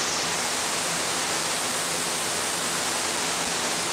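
Water spraying hard to wash dirt off cattle at a county fair, a loud steady hiss of rushing water with no pauses.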